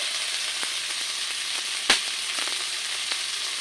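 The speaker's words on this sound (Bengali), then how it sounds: "ভাজাটা করে নেব" Raw tomatoes and chopped onion fry in a pan with a steady, close sizzle and no voices, broken only by one sharp clack near the middle.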